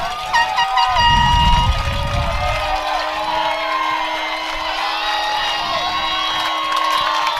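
A Friendswood baseball crowd on its feet cheering during a 5A regional semifinal against Brenham: a dense, sustained roar of voices with horn-like tones running through it, loud and steady throughout.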